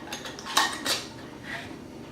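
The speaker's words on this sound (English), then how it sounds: "Get my screw caps and just put them on hand tight." Metal screw caps go onto glass canning jars of homemade papaya jelly, giving light clinks and scraping twists up close, with a soft rattle near the end.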